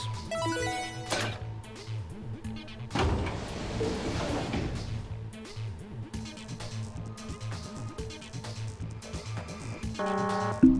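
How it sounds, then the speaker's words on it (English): A sliding door opens in the video game Virtue's Last Reward: a loud whooshing slide over about a second, set against steady game music and tones. "Let's open the door with the star keys."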